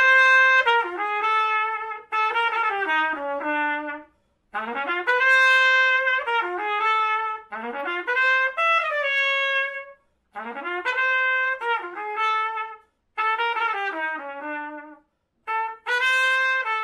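A recording of a jazz tune, a bright solo trumpet playing phrased melodic lines with bends and runs, clear and up front with short pauses between phrases.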